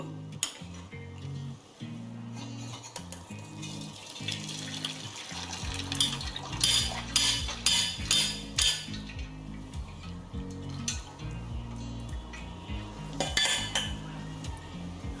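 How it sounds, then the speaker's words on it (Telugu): Beetroot rasam is poured through a strainer while metal utensils clink and scrape up close, with splashes of liquid and a busier run of clattering midway, and no voices. "చారు దగ్గర పడిందండి ఇప్పుడు వడపోసుకుందాం మనం"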